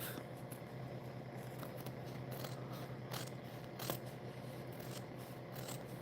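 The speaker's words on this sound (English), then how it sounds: "I hear these scissors." Soft, close snipping and rasping of scissors cutting paper, with a few sharper clicks against a quiet steady background.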